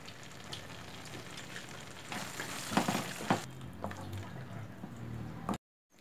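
Fresh cream being stirred into an okra masala gravy in a pan, with soft sizzling and scraping stir strokes, close but faint, and a brief silence near the end.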